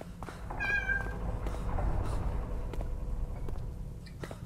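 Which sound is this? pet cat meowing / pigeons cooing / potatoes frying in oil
pet cat meowing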